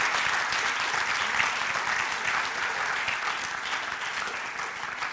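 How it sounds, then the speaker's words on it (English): Steady, dense applause from a large crowd at a Pro Football Hall of Fame event, sustained at an even level throughout with no voices standing out. "How about a nice round of applause?"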